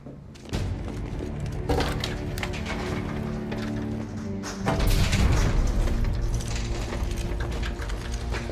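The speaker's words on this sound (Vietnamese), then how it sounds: "Tiếng súng." Gunfire in an American action film, heard as dense, loud booming bursts and thuds over a sustained music-like bed, intensifying about halfway through with a heavier burst of shots.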